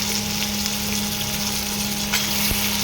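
Chopped capsicum and red onion fry in a pan, a steady loud sizzle running throughout with one small clink near the end.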